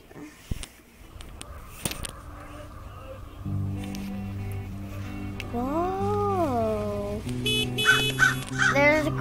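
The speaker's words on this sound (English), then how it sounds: "There's a crow." A crow caws in the Hello Neighbor video game, with a few sharp calls set against sustained tonal game music and sound effects.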